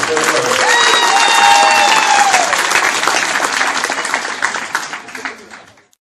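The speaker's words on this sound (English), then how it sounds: "Let's give her a hand if you're clapping." A gala audience at a charity auction applauds a winning bidder, loud full-room clapping with some cheering and voices on top, tapering off and stopping at the end.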